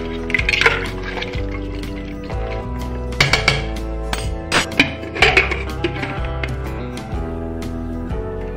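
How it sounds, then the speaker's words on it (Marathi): Water poured into mutton curry in a pressure cooker, a close splashing fill with clinks of metal vessels and a spoon, loud and busy with no voices. "मटण मध्ये टाकण्यासाठी मी इथे अर्धा गडू पाणी टाकून घेणार आहे"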